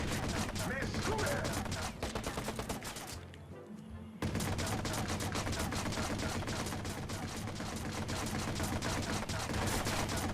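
Dense, rapid gunfire in the Watch Dogs video game, continuous bursts filling nearly the whole stretch with a brief lull in the middle, loud and close.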